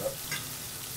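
Tomatoes and chopped wild garlic fry in a pan, a steady close sizzle with faint crackles and a light stirring scrape, and no voices.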